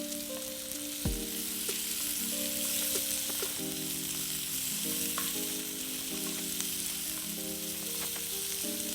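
Onions sizzle and fry steadily in hot oil in a pan for a mutton curry, a continuous crackling hiss with a sharp clatter near the start and light utensil knocks throughout; no one speaks.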